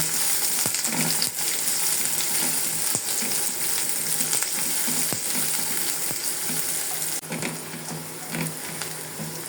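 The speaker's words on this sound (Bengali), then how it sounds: "পেঁয়াজগুলোকে এখন হালকা করে ভাজা দেব" Onions frying in a pan for a papaya chicken curry give a steady, close crackling sizzle throughout, with occasional scraping clicks of stirring and no talk.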